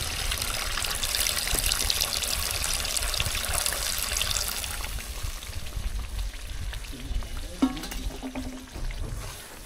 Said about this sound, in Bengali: এবার রান্না করার জন্য একটু পানি দিয়ে দেবো, মাছটা রান্না করার জন্য সামান্য একটু পানি